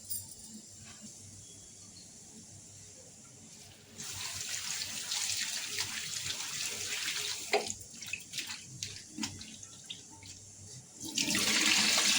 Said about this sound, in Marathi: आता स्वच्छ पाणी घालून धुवून घेते.